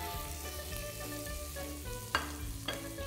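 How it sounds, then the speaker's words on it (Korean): Chopped vegetables sizzle in a pot that was just used to sear meat, a steady frying hiss with a few sharp crackles, close and continuous, with nobody speaking. "지금 고기 구웠던 냄비에 아까 준비해놨던 야채들을 깔아볼게요."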